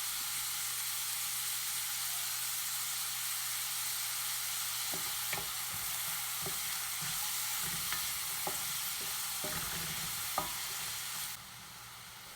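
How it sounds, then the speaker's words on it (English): Onion sautés in a pan with a steady close sizzle while a utensil stirs it, giving a run of scraping clicks through the middle; the sizzle drops suddenly at the end. "we're just going to saute this onion for maybe 2 to 3 minutes or so"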